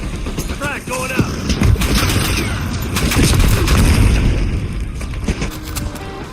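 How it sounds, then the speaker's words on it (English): A frag grenade thrown and exploding in a video game, amid a dense, booming firefight with steady gunfire, and a voice speaking over the clatter. "Frag going out."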